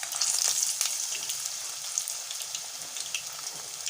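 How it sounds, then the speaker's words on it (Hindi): Chicken pieces frying in hot oil and ghee give a steady, bright sizzle with small crackles and pops throughout, close by and without talk. "अब हम एक एक पीस उठाएंगे और फ्राई करने के लिए हम रख देंगे।"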